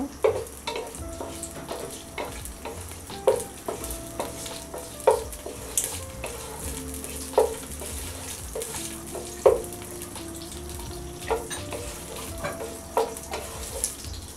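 Cinnamon, cardamom and a torn bay leaf fry in hot oil for chicken tehari, a steady sizzle under repeated spoon clinks and scrapes as the whole spices are stirred in the pan.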